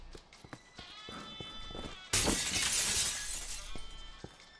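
Glass shatters loudly and suddenly in a mall in the video game Dead Rising Deluxe Remaster, a bright crashing burst that tails off over a couple of seconds after quieter footsteps and game noise.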